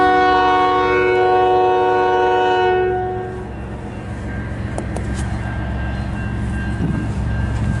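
CN 385, a southbound freight train in Port Huron, Michigan, sounds a long, loud multi-tone horn blast that cuts off, leaving a steady rumble and clatter of the rolling train with brief metallic squeals.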